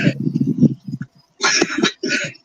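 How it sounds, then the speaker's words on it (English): Coughing from a person with sinus trouble: a cluster of harsh, close coughs in the first second, then two longer loud bursts of hacking, close to the microphone. "Otherwise, I'm coughing like all the way through this."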